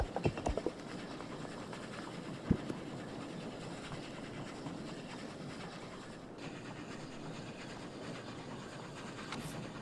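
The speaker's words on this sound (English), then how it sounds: "it did detect the train" A cargo train wagon rolls along its track in the video game Oddsparks, giving a steady, continuous clatter with a few sharp clicks near the start and a brief bright accent at the end.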